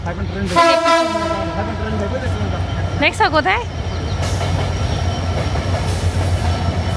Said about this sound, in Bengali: ট্রেনের আওয়াজ